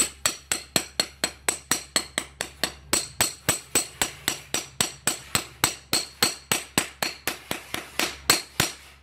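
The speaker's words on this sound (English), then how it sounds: "put the female part, which is the washer, on top, and then put the anvil on top" Steady hammer blows strike an anvil setting a size 12 curtain grommet and washer on a flat concrete surface, about thirty sharp, evenly spaced metallic knocks, loud and close.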